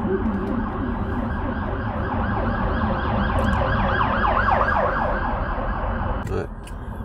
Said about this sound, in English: They had emergency services passing by.